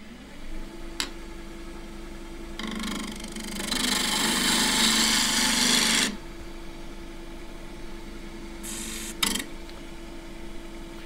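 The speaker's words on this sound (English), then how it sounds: "This is going to be done with the spindle gouge." A wood lathe spins a redgum box while a spindle gouge cuts, giving a steady motor hum with a louder, hissing bout of cutting in the middle and a few brief scraping touches later.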